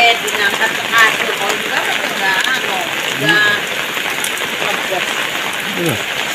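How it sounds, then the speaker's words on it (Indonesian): Rain falling at night in Indonesia on the first of Muharram, a dense steady patter on surfaces close by, with faint voices and small household noises mixed beneath it. "Hujan berkah ini ya, satu Muharram."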